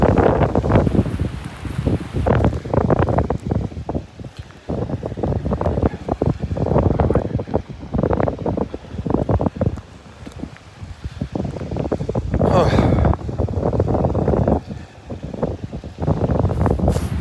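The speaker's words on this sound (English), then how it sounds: "The wind's going to be at my back." Strong gusting wind buffets the microphone on Delnor-Wiggins beach, a continuous loud rumbling roar with surging bursts and a faint wash of surf beneath, no voices.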